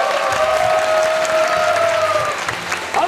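Sustained applause from a studio audience on a TV quiz show honoring a winner, loud and continuous clapping with a light edge of cheering, holding steady before easing slightly near the end.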